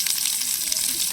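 Onion sizzles in hot oil in a pan, a brief, steady hiss that sits close and fairly loud.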